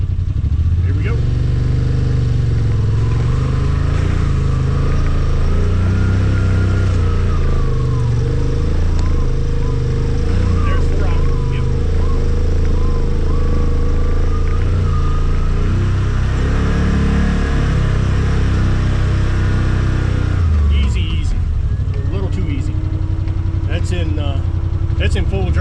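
A Yamaha RMAX4 1000 XTR side-by-side climbs a trail, its engine droning and surging loudly and continuously with shifting revs, and someone talks over the engine throughout.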